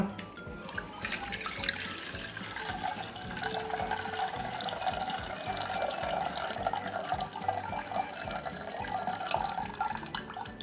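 Water standing over activated charcoal is poured off into a vessel, giving a soft, continuous trickle and splash that runs for several seconds at low level, close by.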